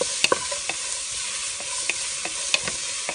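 A spoon repeatedly stirs meat frying in a Kerala-style pan: a steady hiss of sizzling oil broken by sharp, irregular scrapes and clicks of the utensil against the metal, up close with no talking.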